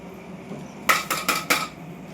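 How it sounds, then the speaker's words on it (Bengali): Homemade mango pulp for mango leather is scraped from a pan and spread onto a metal plate, making four sharp, evenly spaced metallic clanks close by after a quiet start. "এবার আমি এটা এই থালাতে তুলে চাড়িয়ে দেবো"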